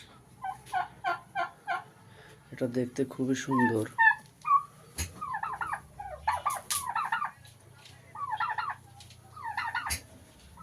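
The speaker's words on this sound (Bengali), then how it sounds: "এগুলো হলো টার্কি মুরগি।" Turkeys on a poultry farm in Ullapara, Sirajganj gobble in repeated rapid bursts close by, their calls rising and falling over several seconds while a person talks briefly between them.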